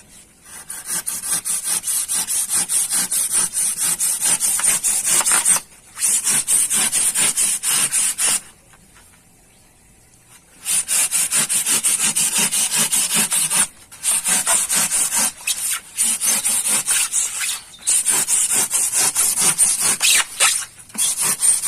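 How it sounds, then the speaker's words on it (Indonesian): A hand saw cuts through styrofoam for a catamaran hull mold in long, steady rasping strokes, loud and close, broken by a few short pauses and one longer gap, with no talk. "Kita menggunakan gergaji ya."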